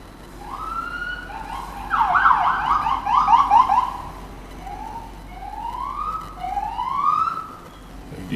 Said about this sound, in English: Some kid is having fun with his siren right there.